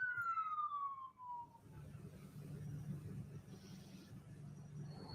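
An emergency vehicle siren wails near a fire with smoke in the air, a loud descending tone that fades after about a second, leaving a steady low rumble of traffic and distant activity.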